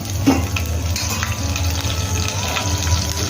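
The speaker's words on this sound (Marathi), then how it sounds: "आता याच्यामध्ये मिरची टाकायची आहे." Chillies with garlic fry in hot oil in a wok, giving a dense, continuous hiss and crackle with a few clinks of stirring, fairly loud and close, with no talking.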